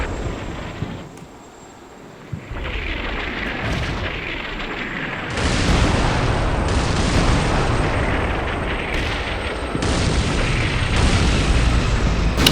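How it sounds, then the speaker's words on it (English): Artillery bombardment in the military game Combat Mission Black Sea, heavy continuous rumbling explosions that grow louder and denser partway through, with booming impacts layered over a roaring background. "That bombardment's coming in."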